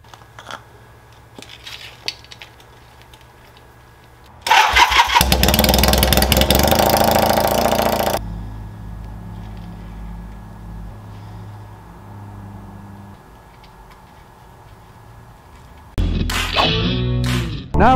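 Motorcycle engine after an oil change, first a low idle, then a loud revving burst, settling back to a steady idle before another sharp rev at the end, close and with no talk.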